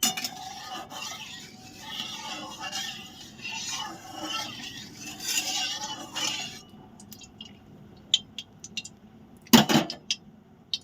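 Mustard oil being stirred in a cooking pan, a soft continuous scraping and rubbing that runs steadily for several seconds, then falls to quieter gaps broken by a few sharp clinks of utensil against pan near the end.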